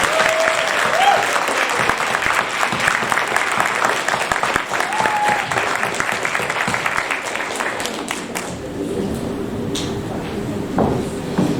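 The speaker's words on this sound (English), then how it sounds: "I think that deserves a massive round of applause." An audience applauds young published poets at an awards event, with dense, loud clapping that carries on for about eight seconds before fading out. A few voices and a brief tone sound through it, and some quieter room noise follows.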